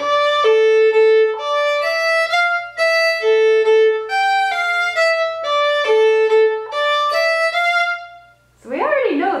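Solo fiddle plays a phrase of a tune in a minor key, a steady run of sustained bowed notes close up, ending in a brief burst of noisy sound.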